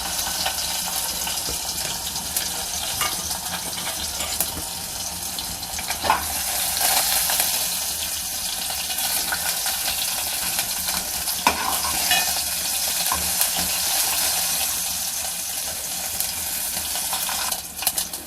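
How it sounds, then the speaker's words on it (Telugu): Dried red chillies, garlic, mustard seeds and cumin sizzle in hot oil for a spinach moong dal tempering, a steady close crackle with occasional stirring scrapes and no talk. "నేను ఈరోజు నూనె వేస్తున్నాను. చూడండి, తాలింపు సరుకులు ఇందులో వేసేయాలి."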